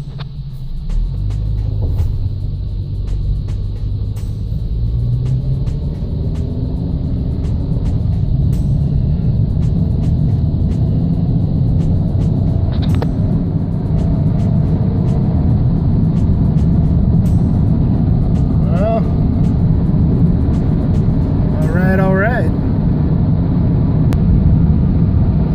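A Ford Escape with a 2.3 Duratec engine, freshly fitted with a used cylinder head, drives on the road, giving a steady low engine and road rumble throughout with faint brief squeaks over the top.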